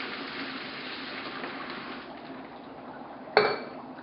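Warm water is poured directly onto dry ice, giving a steady soft gushing hiss that fades slightly, then a sudden clink and splash near the end, close and without talk.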